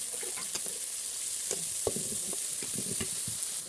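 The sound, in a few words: onions and green chilies frying in oil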